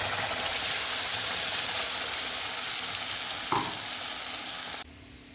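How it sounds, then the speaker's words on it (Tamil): Ground curry leaf masala poured into hot oil with asafoetida, a strong steady sizzle and crackle throughout with a brief clink partway, ending suddenly into quieter room tone. "பெருங்காயம் பொரிஞ்சதுக்கப்புறம் இந்த அரைச்ச மசாலா ஊற்றி கொதிக்க வைக்கலாம்."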